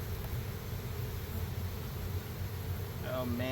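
Honey bees at an open hive hum in a steady, low drone throughout, with a brief voice cutting in near the end.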